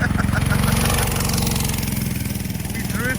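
A 6 horsepower go-kart engine idles and runs steadily at close range, its low buzzing drone continuous through the clip, with people's voices over it.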